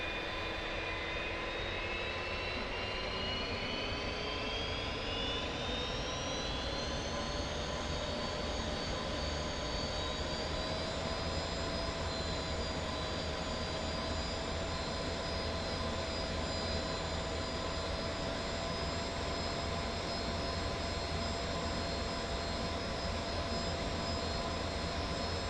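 An F-86F jet engine in the video game DCS World spools up as it is throttled higher, a loud, continuous whine that climbs steadily in pitch and then holds at a higher idle roar.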